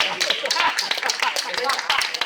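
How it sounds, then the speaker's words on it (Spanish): A short burst of scattered clapping from a small group, uneven and brisk, with voices talking underneath. "Un aplauso para ella, que lo ha entendido."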